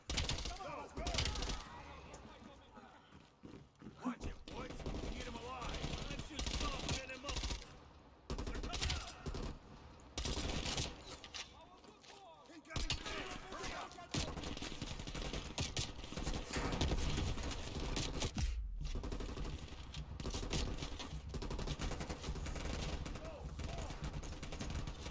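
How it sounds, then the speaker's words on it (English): Rapid bursts of automatic gunfire and single shots from the PC game Call of Duty Black Ops Cold War crackle almost continuously and loudly, with short pauses between volleys. "I don't know why I shot at them."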